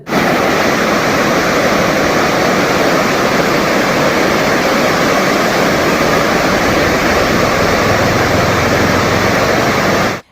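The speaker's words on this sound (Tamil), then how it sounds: "அணையிலிருந்து ஆயிரத்து ஐநூறு கன அடி நீர் திறக்கப்பட்டுள்ளதால் கோதை ஆற்றில் வெள்ளப்பெருக்கு ஏற்பட்டுள்ளது" Water released from the Pechiparai dam floods the Kothai river, making a loud, steady, unbroken roar of rushing water that fills the whole stretch with no voices.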